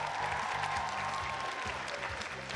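A crowd at a youth KVN comedy league gala concert in Ufa claps for an introduced guest, a broad continuous wash of applause over a low steady hum, with no speech.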